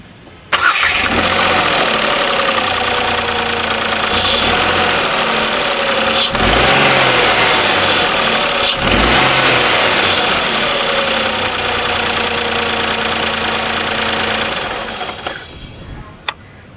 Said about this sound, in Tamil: இந்த வெஹிக்கிளுடைய இன்ஜின் நோட்டை கேளுங்க